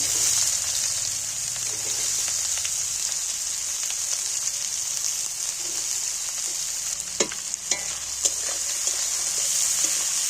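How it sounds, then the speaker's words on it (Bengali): Chopped onions frying in very hot oil already seasoned with whole cumin, a steady loud sizzle with occasional sharp crackles and stirring scrapes, no voices. "এইবার পেঁয়াজগুলোকে আমি একটু ভালো করে ভেজে নিচ্ছি"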